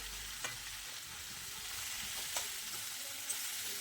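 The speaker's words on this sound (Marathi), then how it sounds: "तर तेलावर छान अशा खमंग परतून घ्यायच्या." Bitter gourd pieces fry in oil for Maharashtrian karela bhaji, a steady soft sizzle running throughout with a few faint spatula scrapes as they are stirred.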